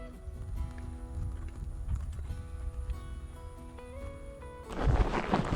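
An ex-racehorse being ridden in an arena, its hooves clip-clopping steadily and fairly close, layered over a sustained tonal background, with a louder broadband burst near the end.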